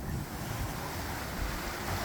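Wind roars and waves wash around a sailing boat running about 6 knots in 2 meter seas with gusts near 20 knots, a dense, continuous broadband rush with heavy wind buffeting on the microphone.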